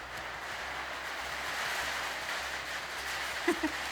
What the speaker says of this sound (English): Can I compete with the rain?